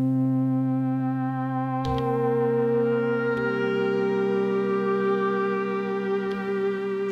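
An Elektron Digitone synthesizer plays a sustained, harmonically rich pad with layered chord tones that shift a couple of times, holding steady and fairly loud with no talking.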